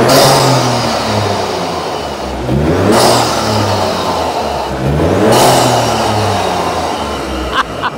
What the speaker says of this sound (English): Yeah, you've now got the full-on dump valve noise.